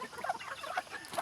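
Farm chickens cluck softly on a rural plot, a few short scattered clucks, faint and fairly close.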